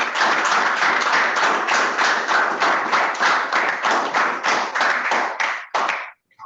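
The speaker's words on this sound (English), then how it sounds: "Please, a round of applause." A round of applause fills an annual general meeting hall, rapid dense clapping from a sizeable crowd sustained for about six seconds, then thinning and stopping abruptly.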